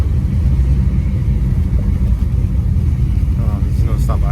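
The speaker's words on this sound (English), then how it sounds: "About goddamn time this car started smoking tires and back to running things like I built it for." A Chevrolet Impala SS with a rebuilt 4L60E transmission runs with a loud, close, continuous engine rumble, and someone talks over it.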